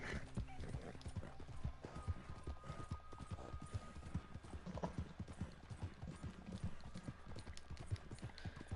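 Horse hooves clip-clop steadily through a video game scene, a busy rhythmic patter of hoofbeats with an occasional whinny, close and continuous for the whole stretch.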